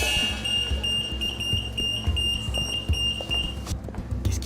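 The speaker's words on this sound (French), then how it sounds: "parfois les alarmes se déclenchent pour rien" A shop security alarm sounds as a steady high electronic tone over a busy, noisy background with thuds and movement, then cuts off near the end.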